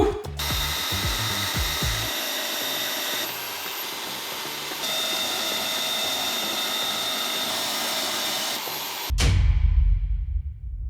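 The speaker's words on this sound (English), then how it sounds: "But first I gotta cut up this hunk of steel." A loud power tool cutting through a hunk of steel for a Chinese cleaver, a steady high whining grind lasting several seconds, then stopping abruptly into a lower rumbling clatter.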